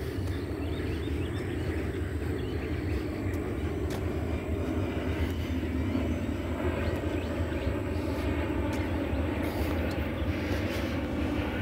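Fixed-wing airplane passing overhead near New Orleans International Airport, a continuous low engine roar that stays steady and fairly distant for the whole stretch, with no talking.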